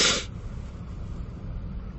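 A single loud, close sneeze bursts out at the start inside a moving car, then fades into a steady low rumble of road and engine noise with no talking.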